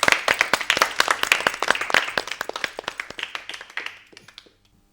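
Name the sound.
applause for the winning Arjun group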